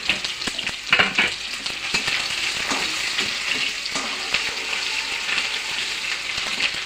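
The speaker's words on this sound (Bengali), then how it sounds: "এখন দিয়ে দিচ্ছি আমি ভূত জলকিয়া, এটার নাম ভূত জলকিয়া," Bhoot jolokia chilli and crushed ginger fry in a pan with a steady close sizzle, broken by scraping stirs and clinks of a utensil throughout, no voices.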